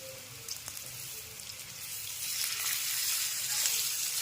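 Grated raw potato breakfast patty sizzles and fries in a pan, a soft steady crackle that swells slightly louder toward the end, with no talking.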